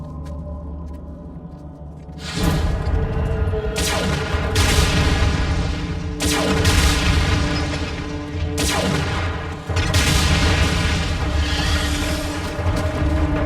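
Animated robot battle in Transformers: Prime, with heavy suppression gunfire and booming blasts roaring in sustained loud bursts after a quieter rumbling opening, dense and close with repeated surges.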